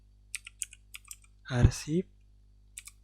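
Keys on a computer keyboard tapped to enter a letter number, several light, close clicks in an uneven rhythm, broken by a brief spoken word in the middle.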